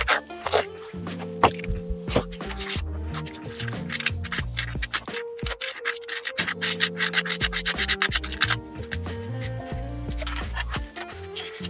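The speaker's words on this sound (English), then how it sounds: "we can always just now take our sandpaper and smooth out any rough edges." Sandpaper rubs over the rough edges of a homemade ultralight thumb box, including the thumb hole, in close, repeated scratchy strokes with short pauses, and no one talks.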